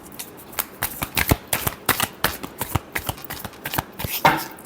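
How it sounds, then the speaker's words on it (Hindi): Tarot cards being shuffled close by in quick, rhythmic bursts of papery riffling and slapping, with no voices over it. "Last shuffle."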